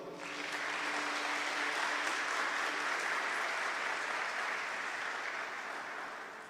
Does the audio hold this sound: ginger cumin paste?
no